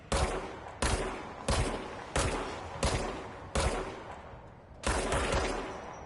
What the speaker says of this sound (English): Thing's just standing there taking bullets.